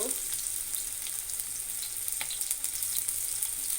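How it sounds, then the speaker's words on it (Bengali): Onions fry in oil in a pan with a soft, even sizzle and occasional light pops, close and steady throughout. "আমি প্যানে কিছুটা তেল দিয়ে দিয়েছি এবার আমি কিছুটা পেঁয়াজ দিয়ে ব্রেডটা করে নেব"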